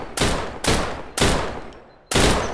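Four loud, close gunshot bursts in the game Deadside during a 4 vs 4 PvP attack on a lighthouse, each a sharp broadband crack with a decaying tail, evenly spaced with a longer gap before the last, no talking.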